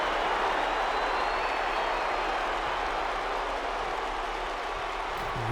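Steady, continuous crowd applause and noise fills a WWE 2K wrestling video game arena, broad and even throughout without a break, with no clear talking.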